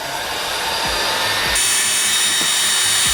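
A heat gun warms vinyl wrap film on a BMW 1 Series M Sport F20, giving a steady, loud, hairdryer-like rush of blown air that continues without a break, with a slight shift in tone partway through.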